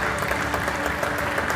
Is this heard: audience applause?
yes